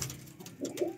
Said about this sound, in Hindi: ओरिजिनल सेठ वाले और रॉयल टैडी कबूतर हैं ये